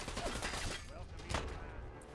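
Quiet gunfire from the Fallout 4 video game strikes the player character: a brief, muffled burst of shots with one sharper crack midway, set under game ambience.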